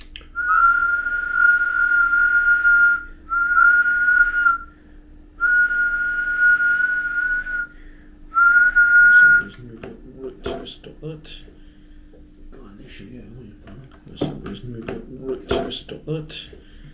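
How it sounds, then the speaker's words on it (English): A person whistles steady sustained tones into the microphone of an Icom 718 ham radio transceiver, four long bursts with short gaps, followed by clicks, handling noises and murmured talk. "Let's give this a good whistle and see what we can get out of it."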